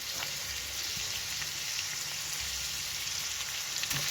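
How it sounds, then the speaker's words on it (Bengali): Prawns and potatoes fry in a pan with a loud, dense, continuous sizzle close by, crackling evenly throughout with no voices. "চিংড়ি মাছ আলু ভাজা হয়ে গেলে এবার এর মধ্যে আমি একটু দেবো নুন হলুদ আর লঙ্কার গুঁড়ো"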